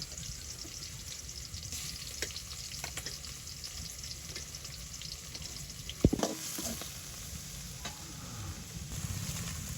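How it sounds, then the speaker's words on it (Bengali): Small river icha fish frying in oil in a home village kitchen, a steady close sizzle with occasional stirring scrapes and one sharp clatter partway through, no voices. "এই যে এখানে ইচা মাছগুলো তেলে দিয়ে নিতেছি।"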